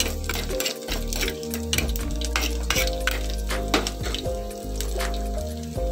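Onions fry with garlic and ginger in a pan for tomato curry, a loud close sizzle under repeated scraping and clinking of a spoon stirring against the metal, with no talking.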